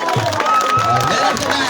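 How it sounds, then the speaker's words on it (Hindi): A crowd applauds and cheers at a cricket league final's trophy presentation, a steady wash of clapping and shouting that runs through the whole clip, with an announcer speaking over it on a loudspeaker. "आपकी भरपूर तालियों में"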